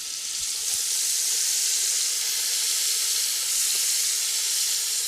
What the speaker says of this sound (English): as soon as the bacon has started to brown, which it is now, we can add some little finely diced carrot.